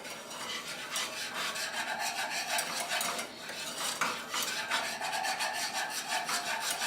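A whisk beating cocoa powder into a warm mixture in a pot on the stove for a chocolate peanut butter pie, with rapid, close rhythmic scraping and rubbing strokes against the pan, steady and unbroken, with no talk.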